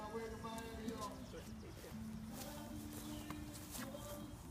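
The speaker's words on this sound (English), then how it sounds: "Trinity, bring the horse here for me" A horse being led at a saddle workshop, its hooves giving soft, irregular clip-clopping steps that are partly masked by people talking nearby and steady background noise.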